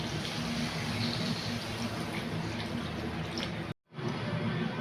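Water pouring steadily into a pan of potato and fish curry, a continuous close splashing rush that cuts off briefly near the end, then resumes.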